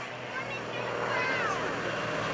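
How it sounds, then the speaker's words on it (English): An aerobatic airplane tumbles nose over tail at the 2015 Greenwood Lake airshow, its engine a steady distant drone with rising and falling pitch, while an announcer talks over it. "Oh, he doesn't fly this airplane straight level for long, that's for sure"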